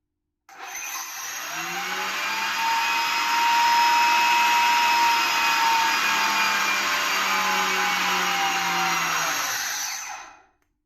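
A combat robot's weapon flywheel, running unrestrained on a high-inrush ESC, spins up with a rising electric whine, holds a steady loud tonal drone for about ten seconds, then cuts off abruptly, with no talking.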